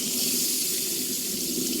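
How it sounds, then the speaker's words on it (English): Hot water runs steadily from a tap to bathe a tense cat, a close, continuous broadband rush with no voices. "We're going to turn the water on."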